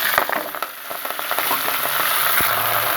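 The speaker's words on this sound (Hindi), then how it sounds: "4 टेबल स्पून ऑयल गर्म हो चुका है, इसमें मैं डाल दूँगी ये मेथी" Fresh fenugreek leaves (methi) dropped into four tablespoons of hot oil in a pan, a loud continuous sizzle and crackle with stirring scrapes and small knocks throughout.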